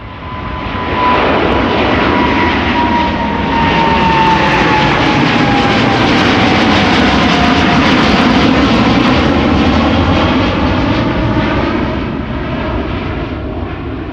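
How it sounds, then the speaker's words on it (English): A KLM jet airliner bound for Bogota thunders past at Schiphol, loud sustained jet engine roar with a faint whining tone sliding down as it passes close by. "And this is KLM Flight 749 to Bogota, the capital of Colombia"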